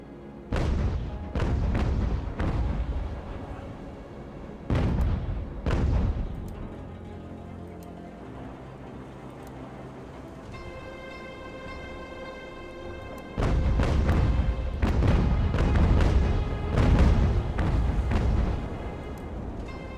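Heavy ship cannon fire in a sea battle in the naval video game UGAR, with several loud booming blasts separated by pauses and a dense rumbling cluster of shots near the end.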